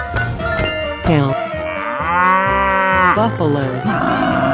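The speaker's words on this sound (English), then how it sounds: "Cow." A cartoon cow in a 3D animal sliding game gives a loud, drawn-out moo with rising and falling tone, lasting a couple of seconds amid bright game music and effects.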